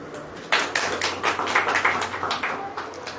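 An audience claps together at a church gathering, a sudden burst of many hands that carries on in uneven rhythmic waves for a few seconds, fairly close and loud, with no talking over it.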